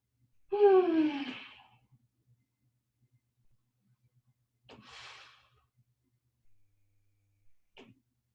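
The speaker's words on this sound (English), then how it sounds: "We'll take some big breaths here." Deep breaths during a yoga twist: one long audible inhale with a slight voiced rasp, then a shorter breathy exhale a few seconds later and a brief faint puff near the end, close and quiet.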